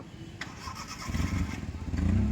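A manual car's engine cranks and catches during a driving lesson, the low rumble building and settling into a steady idle close by.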